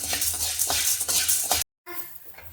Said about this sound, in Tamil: பொட்டுக்கடலையே நல்லா வறுத்து எடுத்துக்கலாம் இது கொஞ்சம் லைட்டாக வறுத்தாவே போதும்